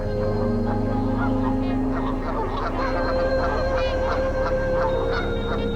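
Swans gathered in Monticello, Minnesota honk repeatedly at close range, a dense chorus of overlapping nasal calls that carries on continuously and loudly.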